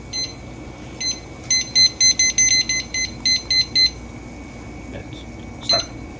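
Short electronic beeps from a kitchen cooking timer being set to 12 minutes while preparing a frozen Japanese spicy curry, a quick series of close, bright bleeps in uneven clusters, then a couple of isolated beeps over faint room noise.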